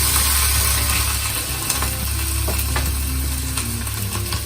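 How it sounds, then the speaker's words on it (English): Quick stir of hing, ginger and chopped green chili in a hot pan, with steady sizzling under scattered scraping and clicking from the spoon against the pan, no voices. "and just give it a quick stir."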